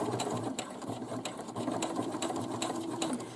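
A sewing machine runs steadily, stitching forward along a drawstring bag casing in fabric, its motor hum and rapid needle chatter continuous and close for a few seconds with no voices.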